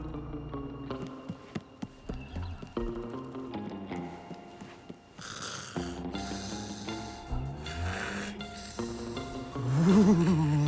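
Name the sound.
cartoon character snoring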